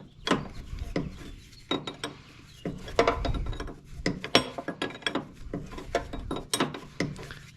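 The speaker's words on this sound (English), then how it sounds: "I got a 19 millimeter just to turn it." Wrench clicking and scraping as a bolt is turned with a 19 mm wrench on the high-pressure power steering line of a 1999 Jeep Cherokee XJ, heard as a close series of irregular ratcheting clicks and knocks, with no talk.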